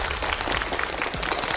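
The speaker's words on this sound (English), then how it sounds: "let's give a round of applause to invite the old lady on stage" A crowd claps steadily in applause at a birthday gathering, dense and continuous for a short stretch.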